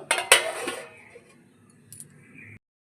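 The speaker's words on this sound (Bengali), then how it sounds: "এবার আমি ঢাকাটা দিয়ে দেব" A metal lid lands on a cooking pot of cauliflower and potato curry with a few sharp clanks and a brief rattle, close and bright, followed by a faint clink and quiet hiss.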